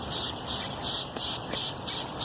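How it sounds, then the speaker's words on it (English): Spray paint hissing onto a car body in six short, evenly spaced bursts, each about a quarter second long with brief gaps between. The sound is close and steady, with no talking. "you're not spraying the right way"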